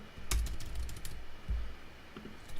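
Typing on a computer keyboard, heard as a few distinct close key strikes and clacks spaced unevenly over a quiet background, with no voices.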